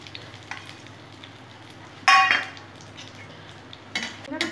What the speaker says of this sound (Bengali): একটু ভাজা করে নিচ্ছি,